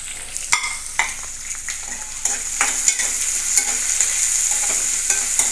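Onion and tomato tempering fries in oil for bread upma, a bright continuous sizzle that grows louder, punctuated by sharp spoon scrapes and knocks against the pan, with no talking.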